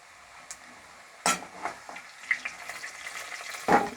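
Pieces of young jackfruit frying in oil already used for potatoes, a quiet steady sizzle broken by a few louder clinks and stirring scrapes, with no voices.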